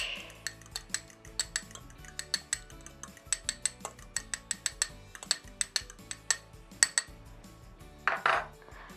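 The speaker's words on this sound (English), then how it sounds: "we're going to beat one egg for the egg wash" A single egg beaten with a fork in a bowl for egg wash, a quick run of sharp clinks against the bowl's side in an uneven rhythm, close and clear, ending in a brief rustle.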